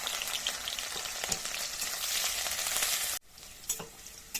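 Dried red chili, cumin, chopped ginger and green chili fry in hot oil with a steady, close crackling sizzle that drops abruptly to a softer hiss near the end.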